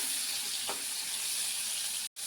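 Ridge gourd pieces sizzle in hot oil in a pan, a steady, close frying hiss that holds evenly, cut by a brief silent dropout near the end.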